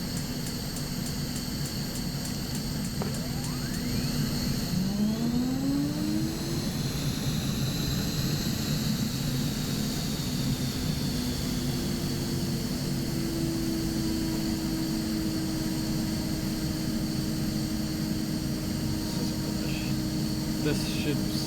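Engine 1 of an aircraft spools up in the X-Plane 11 flight simulator, a steady jet-like roar with a rising whine that climbs in pitch and settles into a sustained tone, with occasional faint clicks.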